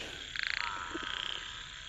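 Frogs croak near a freshly irrigated field at dusk, with a quick pulsing trill and a couple of short lower croaks over a steady chorus hum.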